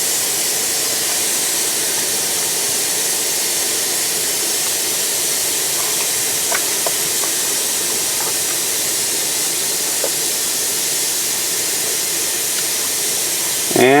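Air hisses steadily from a truck's air brake tank during an air brake check, a loud, continuous close-up rush with a few faint clicks partway through and no voices.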